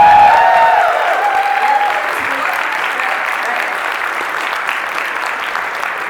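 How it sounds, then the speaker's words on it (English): An audience at a furry convention's closing ceremony claps in sustained applause, loud and dense at first and then settling into a steady, slightly softer roar of many hands, with faint voices mixed in. "So give them a round of applause."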